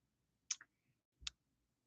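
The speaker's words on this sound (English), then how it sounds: "Click on that." A computer mouse clicks twice, a quick double tick and then a single sharp click about three-quarters of a second later, close and crisp against near silence.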